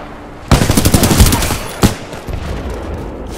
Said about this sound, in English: This is what they call bullets.